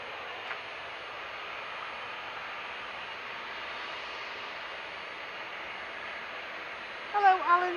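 Qatar airliner jet engines at Manchester Airport, a steady, distant broadband roar holding throughout, with a voice briefly speaking at the end.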